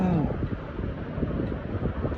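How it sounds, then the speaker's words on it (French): Wind buffets a microphone outdoors in Iceland, a steady low rumble with gusty swells throughout, loud and close. "Il y a du vent."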